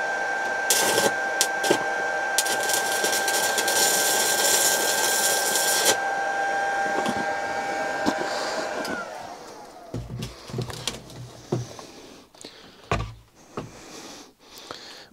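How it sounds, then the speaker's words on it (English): A cheap Chinese handheld arc stick welder, set halfway up its amperage range, runs for about nine seconds with a steady crackling buzz and a tonal hum. The arc then stops, leaving scattered clicks and handling noises. "It sort of does something that looks vaguely like welding, which I suppose is a start."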